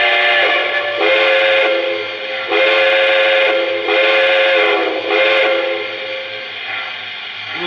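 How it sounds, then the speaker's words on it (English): A deep, loud steam whistle from a Lionel Baltimore & Ohio 4-4-2 Atlantic model train blows in several long sustained blasts with short breaks between them, rich and slightly reverberant. "it's going to start with a very deep sounding whistle"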